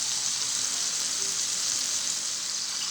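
Hamburger patties for a patty melt fry in a pan with a steady, even sizzle and crackle, loud and unbroken from start to finish, with no voices.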